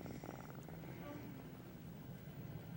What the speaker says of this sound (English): he's purring now like a little baby kitten